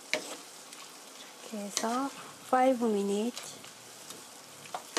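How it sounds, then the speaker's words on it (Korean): Pork with mushrooms stir-frying in a pan, a soft continuous sizzle with light stirring scrapes close by, while someone talks briefly over it. "5분간 볶아주세요."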